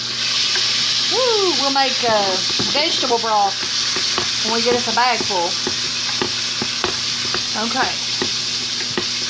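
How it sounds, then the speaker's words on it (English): Bacon sizzles and crackles steadily in a frying pan while someone cooking ham and fried cabbage talks over the constant frying hiss throughout. "Bacon's frying."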